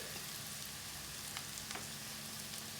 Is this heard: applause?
no